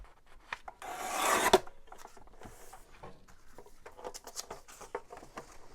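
Scissors cutting through a paper file folder: a brief loud rasping cut near the start, then quieter snips and rustling of paper, close-up and free of talk.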